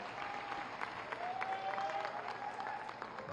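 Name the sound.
crowd applause welcoming the chief minister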